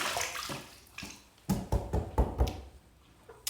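Tap water splashes during a shave as a razor is rinsed, with irregular bursts of splashing and a few light knocks against the sink, close and moderately loud.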